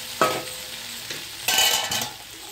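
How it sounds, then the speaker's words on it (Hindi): Masala bhindi (okra) is stirred in a hot pan, with a continuous soft sizzle under several scraping, clattering strokes of the spoon, the loudest coming in a cluster near the end. "अच्छे से स्टर कीजिए"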